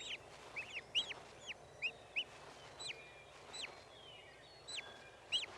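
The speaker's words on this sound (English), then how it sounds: "Should the poults venture out too soon, the hen will call them back." A wild turkey hen gives repeated short, high, clucking calls to her poults, spaced irregularly over steady outdoor background noise.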